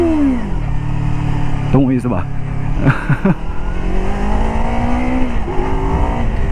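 A KOVE 250RR Thornbird small racing motorcycle engine revs in high, aggressive bursts, with sharp rising and falling sweeps heard close up beneath someone speaking.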